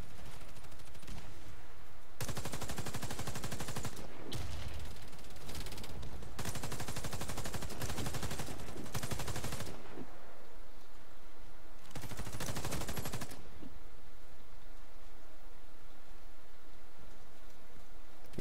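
Bursts of rapid automatic SMG fire from a first-person shooter, several long loud volleys separated by brief pauses, the last burst coming after a quieter stretch.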